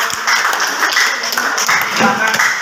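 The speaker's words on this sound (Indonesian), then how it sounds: "tepuk tangan kelompok 1." Classroom applause for a student group, a steady patter of many hands clapping at close range over a noisy room, with voices and chatter mixed in throughout.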